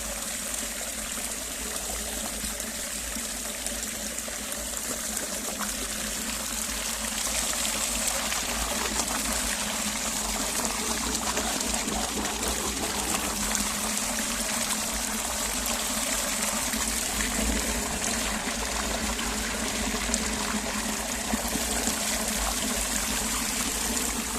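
Water streaming steadily through a clogged channel that needs clearing, a continuous close trickling and rushing wash that holds even for the whole stretch with no voices.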